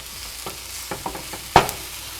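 Corned beef sizzles softly in a pan as a utensil breaks it up, with a few scraping strokes and one sharp clack of the tool against the pan near the end, close and without voices.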